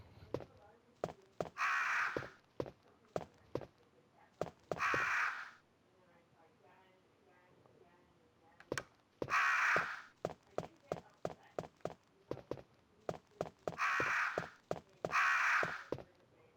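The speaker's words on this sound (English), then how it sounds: "these crows will attack you" Crows caw in Resident Evil: Director's Cut, harsh calls repeating in irregular bursts over a quiet game background, some clustered in quick runs, loud and close.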